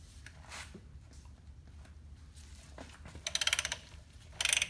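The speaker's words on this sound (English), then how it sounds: "So we're gonna use a bigger wrench here." Wrench ratcheting on tight brake rotor bolts, a couple of short bursts of metallic clicking near the end over quiet background hum.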